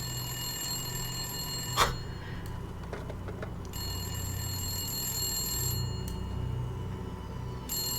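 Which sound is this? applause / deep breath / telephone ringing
telephone ringing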